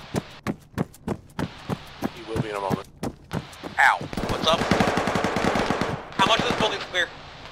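Rapid bursts of automatic gunfire in the military shooter Arma 3, sharp repeated cracks in volleys of varying spacing, loud and close, with voices talking over the shooting.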